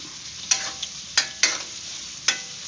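Corned beef sautéing in a pan, a steady faint sizzle broken by several sharp clacks of a spoon or spatula stirring against the pan.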